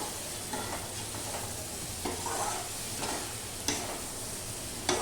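Masala with Kitchen King spice sautéing in a pan for a chitol fish kofta curry, a steady frying sizzle with occasional stirring scrapes and a couple of sharp clicks, close, no talking.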